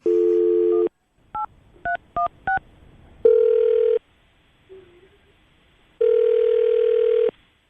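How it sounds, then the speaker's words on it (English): A phone line plays a tone, then several quick dialing beeps, followed by two long ringback tones with a pause between them, clear and close. "we're going to call him right now, see if we can get him on the phone"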